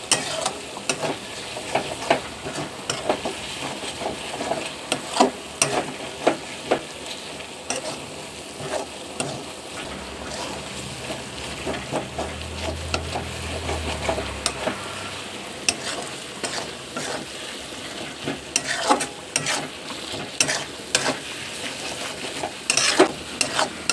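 Spice masala with powdered coriander leaf cooks in a pan for chicken curry, giving a continuous close sizzle under frequent stirring scrapes and spoon clatter throughout.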